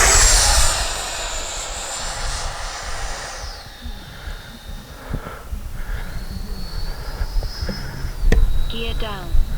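An FMS F-86 Sabre 80mm EDF RC jet flies past, its loud ducted-fan whine and rushing roar strongest at first, then easing and shifting in pitch as it moves away, with brief talk over it.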